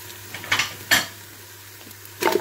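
Beef pieces frying and being stirred in a pan with garlic and ginger already browned, giving a quiet bed of sizzle broken by a few sharp clinks and scrapes of a spoon against the pot.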